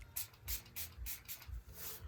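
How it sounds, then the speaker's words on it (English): Milani Make It Last Matte Setting Spray misted onto a makeup brush in a series of short, quiet hissing bursts, about five pumps in quick rhythm, close up with no talking. "we're gonna spray this with some setting spray"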